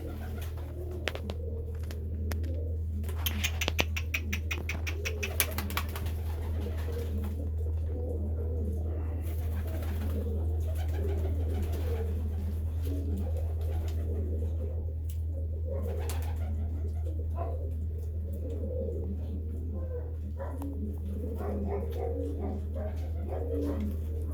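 Pouter pigeons coo in soft, repeated rolling calls close by, over a steady low hum, with occasional rustling and a dog barking in the background.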